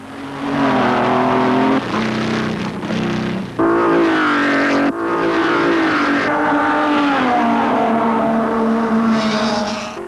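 Vintage 1930s Grand Prix racing with Alfa Romeo, Talbot and Maserati cars, engines droning loud and continuous, pitch rising and falling as the cars race past with a steady roar throughout.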